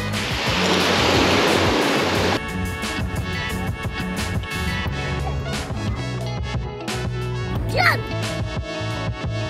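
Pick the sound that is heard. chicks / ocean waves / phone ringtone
ocean waves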